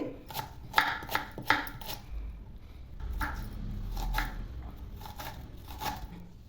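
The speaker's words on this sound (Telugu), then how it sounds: "ఒక ఉల్లిపాయ మీడియం సైజ్ తీసుకొని దీన్ని కూడా సన్నగా తరుపుకోవాలి" A knife finely chops a medium onion on a board: a quick run of sharp, close taps, then steadier, more spaced strokes over a low background hum.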